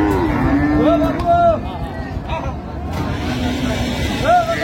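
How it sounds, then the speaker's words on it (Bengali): Sahiwal cow and calf lowing at a busy rural cattle market in Raniganj, Dinajpur, with a couple of drawn-out moos rising over steady crowd babble and market noise. "শাহিওয়াল গাভী বাছুর।"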